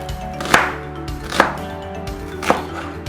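Knife cutting an onion into thick slices on a board, three distinct crisp chops spaced about a second apart, close and clear, with no talking.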